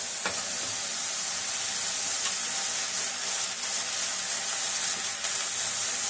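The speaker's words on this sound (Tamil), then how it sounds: "இப்போ அந்த அலசி வச்ச கீரையை இதில் கொட்டிடலாம்." Washed keerai greens tipped into a hot pan send up a steady, loud, continuous sizzle and hiss that stays even throughout, with no talking.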